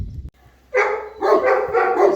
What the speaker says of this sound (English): Got 2 older dogs and then 2 young puppies that are in training.